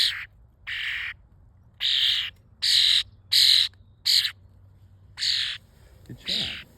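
A pet bird squawking in a row of about eight harsh, shrill calls with short gaps between them, loud and close over a low background hum.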